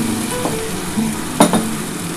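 Spiced water poured into hot oil for a paneer kofta curry, giving a steady sizzle and frying hiss with a sharp burst of spitting partway through.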